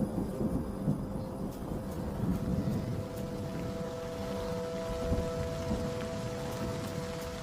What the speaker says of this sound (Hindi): बारिश के मौसम में गरज भरे तूफान लगभग रोज ही आते रहते हैं